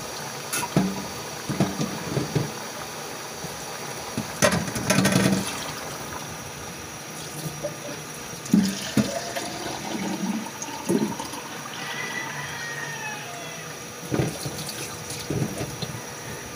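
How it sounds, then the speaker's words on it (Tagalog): Water poured into a cooking pot while making pancit, a close splashing and gurgling pour with a few clanks of the pot, continuing unevenly with no voices. "lagayan na natin siya ng tubig"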